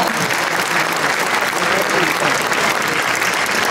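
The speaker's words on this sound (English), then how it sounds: "A round of applause for all of them, please, as they made today possible." Dense, steady applause from a large audience at a Toronto soccer day event marking one year to the 2026 FIFA World Cup, loud and continuous throughout with no pauses.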